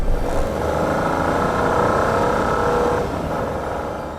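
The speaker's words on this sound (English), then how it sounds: "it's just how loud and rough the engine sounds under acceleration" A 2022 Peugeot 2008's loud, rough engine revs hard under acceleration, a steady droning roar that holds for a few seconds before easing slightly.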